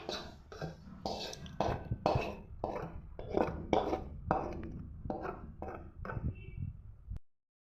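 Roasted cinnamon, cloves and onion tipped into a mixer jar, a series of about a dozen distinct knocks and clinks in an uneven rhythm, close and clear, ending in silence.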